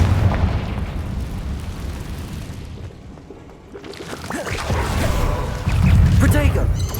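A Confringo fire spell bursts in Hogwarts Legacy, giving a heavy rumbling boom that swells and fades before a second, louder blast, with voices over the battle.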